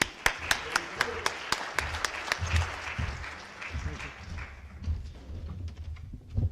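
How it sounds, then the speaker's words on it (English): Applause breaks out at a university Veterans Day ceremony, sharp claps at first that settle into a steadier wash, with a voice starting to talk underneath toward the end. "Please give a round of applause for Pedro."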